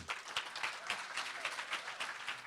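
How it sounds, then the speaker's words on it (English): A standing audience at the NAHP conference applauds Congresswoman Frederica Wilson, quick dense clapping heard faint and distant, holding steady throughout. "please stand and give a great round of applause for our great leader, Congresswoman Frederica Wilson"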